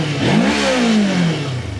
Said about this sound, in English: let's see how she sounds when you rev her up